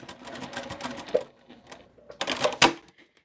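A sewing machine runs back and forth over layered fabric pieces for a boho bag, two short bursts of close mechanical stitching separated by a quiet pause.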